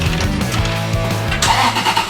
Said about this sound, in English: there's a little squeak that's going while the engine's running now, and I believe this is coming from the idler pulleys